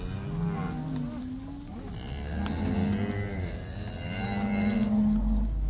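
Young black cattle on a Tahoe pasture in the early morning give long, drawn-out moos, several overlapping calls from nearby over a steady outdoor background.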